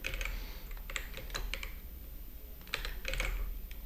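Computer keyboard keys are pressed for Blender shortcuts during 3D modeling of a character's hair, giving scattered clicky taps in small clusters with pauses, close and moderately quiet, with no talk.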